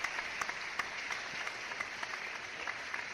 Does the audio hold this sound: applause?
yes